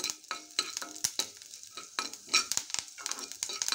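Urad dal fries in a pan with soft sizzling, broken by repeated scraping and stirring strokes of a spoon against the metal, fairly quiet and close.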